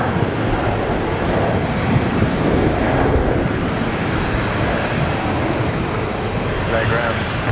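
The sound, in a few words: Velocity Boeing 737 airliner touching down on landing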